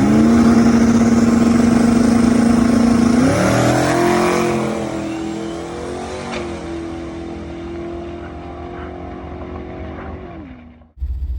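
A twin-turbo Ford Mustang makes a no-prep drag racing pass. A loud steady engine drone rises in a surge of acceleration, then fades into a lower, easing roar before cutting off abruptly at the end.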